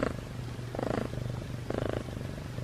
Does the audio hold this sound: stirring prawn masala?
no